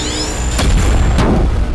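Cannon firing a shot, heard as a pair of deep booming blasts about half a second apart over a loud, continuous low rumble, with a faint high whine fading out beneath.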